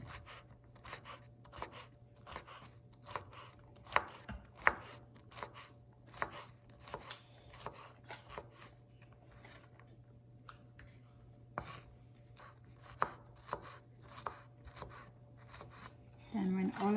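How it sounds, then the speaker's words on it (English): Peppers being diced with a knife on a cutting board, a fast run of crisp, close chopping taps with brief pauses, quiet overall against a low steady hum, a voice faint at the end. "We chop up our peppers and just get everything ready."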